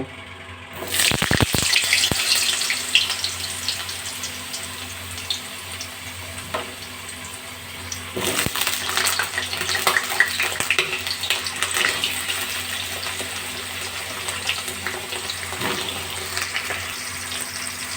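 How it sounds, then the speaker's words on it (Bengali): Potatoes dropped into hot oil in a wok, tempered with nigella seeds, set off a steady loud hiss and sizzle, with a sharp burst near the start and another surge midway. "এবার আমি একে একে আলুগুলো এই গরম তেলের মধ্যে"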